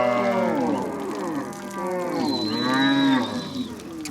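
Large cows moo repeatedly in a pastoral herding camp in South Sudan, several overlapping calls in a long, loud, close chorus with a high whistle-like tone partway through.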